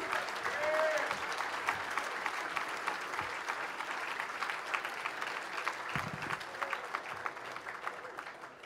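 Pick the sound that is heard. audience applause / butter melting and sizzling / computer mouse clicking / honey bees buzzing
audience applause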